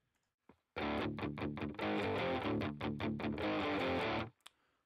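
Electric guitar played through GarageBand's British Blues Combo amp simulation, a Marshall-style model, gives dense distorted chords with rhythmic chugging strums, loud and close, stopping abruptly after about four seconds.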